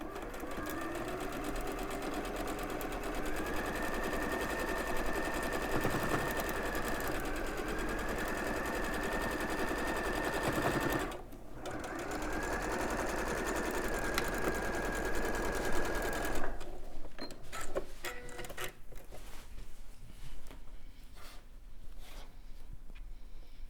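A sewing machine runs a quarter-inch quilt seam, a steady, close whirring that holds for about sixteen seconds with one short break, then gives way to lighter intermittent clicks and handling noises.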